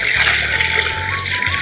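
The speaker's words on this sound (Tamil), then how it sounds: "நல்லா தண்ணி ஊத்திக்குவோங்க." Water trickles and pours steadily into a pot of tilapia and other fish being washed, a close, continuous running-water sound with a faint tonal ring from the vessel, no talking.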